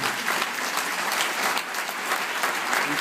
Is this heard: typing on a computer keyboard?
no